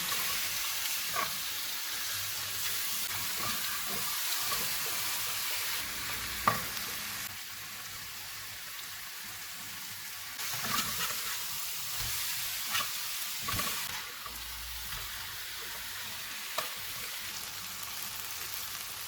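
Chicken tawa pieces cooking on a low flame with fresh coriander added, a soft continuous sizzle and crackle with a few light stirring knocks, quiet and steady throughout, no talking.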